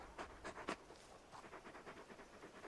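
Torgal, a very large wolf-like dog in Final Fantasy 16, pants quietly in a quick rhythm of short breaths, faint and close, with a few louder huffs early on.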